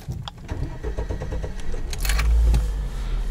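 A Lada Niva that has just stalled cranks and its engine catches, then rises into a revving roar, loud and close, with clicks and mechanical rattles at the start and no talking.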